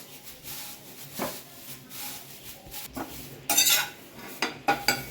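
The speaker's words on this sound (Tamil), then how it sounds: "அதனால் வறுத்து விட்டுக்கலாம்" Moringa leaves dry roasting in a pan, with intermittent scraping and rustling stirs and a few sharper clinks of the utensil against the pan, quiet in between.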